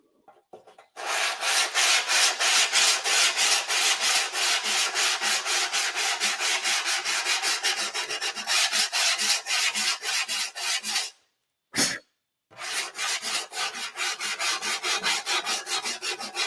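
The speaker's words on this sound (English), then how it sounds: "I'll take a little 180 grit sandpaper." A dented tank being sanded by hand with 180 grit sandpaper, a loud, close, fast rhythmic rasping of back-and-forth strokes that runs almost continuously, with one brief pause near the end before the strokes resume.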